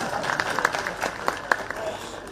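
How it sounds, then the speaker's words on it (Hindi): Women in the audience at a Himachal Day gathering in Dalhousie clap steadily, a crowd of hands with a few sharper individual claps standing out. "महिलाओं को ताली बजानी चाहिए"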